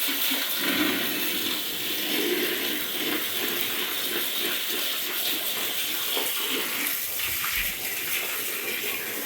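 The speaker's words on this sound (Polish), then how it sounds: "Tu już pomału nawet spuszcza się woda." Water drains and trickles steadily after rinsing barbecue grates, a continuous gurgling wash with occasional splashes, heard alone at moderate loudness.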